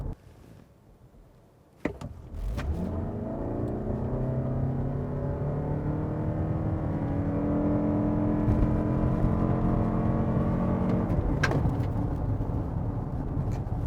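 A 2022 Lexus NX hybrid SUV accelerates hard from 0 to 100 km/h, the engine steadily climbing in pitch, a loud sustained acceleration after a brief quiet start.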